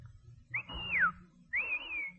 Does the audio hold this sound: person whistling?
yes